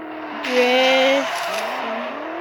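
Simulated car drifting in a driving simulator game, a sustained screeching tire squeal with a rising engine tone lasting over a second, then fading into a steady engine drone.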